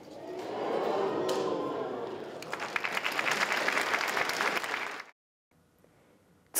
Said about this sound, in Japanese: 次々とはしごの上で行われる技に、会場からは歓声と拍手が起こりました